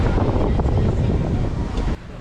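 Strong wind roars and buffets the microphone while sailing on a boat in calm seas, a loud, constant rush that drops off sharply near the end.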